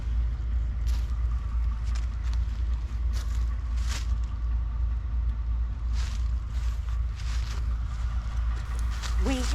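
A car rolls steadily along a gravel road on the way to the Ohio Scenic Byway in southern Indiana, with a constant low rumble of tires and engine and faint crunching throughout; quiet voices come through now and then.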